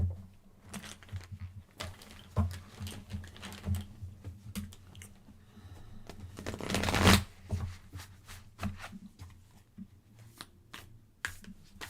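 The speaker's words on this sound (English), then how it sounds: "You're shuffling." Tarot cards being shuffled by hand in a reading, a run of soft crisp riffles and taps at irregular intervals, close and fairly quiet, with one louder flurry of cards midway.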